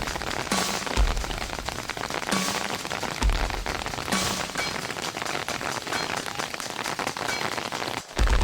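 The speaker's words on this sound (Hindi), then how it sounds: "काफ़ी घना जंगल, ऊपर से बारिश और साथ में फलक के होने की वजह से मुझे काफ़ी डर लग रहा था" Heavy rain falls through a dense forest in Pauri Garhwal, Uttarakhand, a close, continuous hiss of drops striking leaves and surfaces that swells in a few louder bursts.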